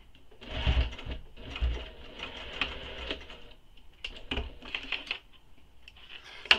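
A sewing machine basting a zipper to the exterior of a Squoval bag with a long stitch length, running in short, uneven bursts of rapid mechanical clatter with brief pauses between.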